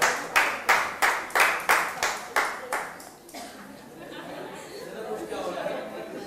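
Students clap in a classroom in a steady run of about ten distinct, evenly spaced claps, which then fade into classroom chatter and murmuring voices.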